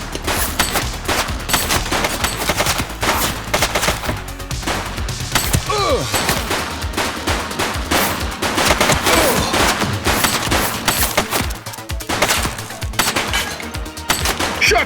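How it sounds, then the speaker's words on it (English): Sustained, dense gunfire in a police firefight in the video game The Precinct: loud automatic bursts and overlapping shots crackle almost without pause, with a few crashing impacts mixed in. "Shots fired!"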